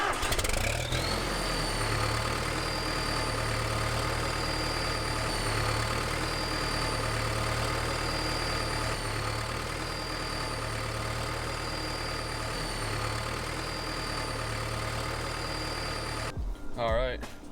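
A tractor engine idles steadily at a low, continuous rumble throughout, ending in a brief clatter at the close.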